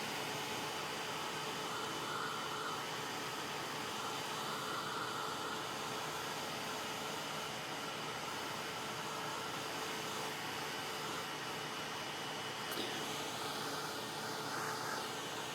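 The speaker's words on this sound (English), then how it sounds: "You can use a hair dryer if you have a hair dryer" A hair dryer blows steadily and continuously, drying fresh paint on a wooden craft house frame, with a loud, even whoosh that runs unbroken the whole time.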